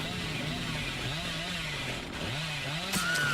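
A chainsaw in the Dead by Daylight video game buzzes continuously, its pitch rising and falling in revving waves, heard faintly under a commentator talking over a competitive league match.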